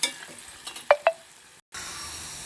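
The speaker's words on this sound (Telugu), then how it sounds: "ఇప్పుడు దంచుకున్న అల్లం వెల్లుల్లి పేస్ట్ కూడా వేసి కొంచెం సేపు వేయించుకోవాలి" Onion and green chilli already fried in a pan, with ginger-garlic paste added and frying; a faint sizzle is broken by two sharp stirring clatters, then a brief silence before the low frying hiss resumes.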